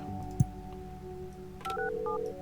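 A phone line connecting in the tower-building game Project Highrise gives a short run of electronic dial tones after a brief thump, over a low steady hum.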